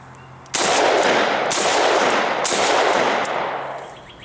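Rifle fire from an AK-47 fitted with a Krebs A2 muzzle device, shot outdoors at night: three loud, sharp reports about a second apart, each ringing into a long rolling echo, with no talk.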